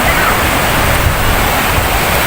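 Constant roaring surf at Bagasbas Beach in Bicol, a loud broadband wash of breaking ocean waves mixed with wind buffeting the microphone, with no clear breaks.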